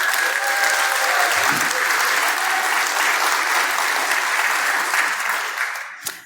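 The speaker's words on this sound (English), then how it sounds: "Applaud yourself" Loud, sustained applause from a conference audience at the closing session, steady clapping filling the room for about six seconds before fading out with a final thump.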